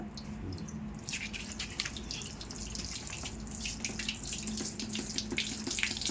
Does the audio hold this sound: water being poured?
yes